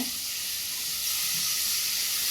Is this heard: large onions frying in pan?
yes